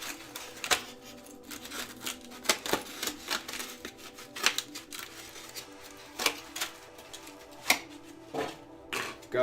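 Styrofoam is snapped and crushed with scissors on a tabletop, repeated close crackling crunches in an uneven rhythm with brief pauses.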